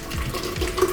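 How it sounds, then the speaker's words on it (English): Cold water running from a tap into a sports drink bottle, a short steady splashing gush close by with no voices. "So let's put a bit of cold water in first."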